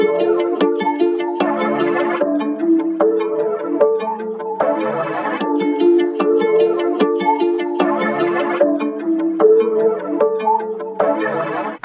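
Synth-based music sample built in Ableton, with vibraphone layered over a synth bed, playing alone in a steady rhythm of repeating chordal phrases with bright mallet tones throughout.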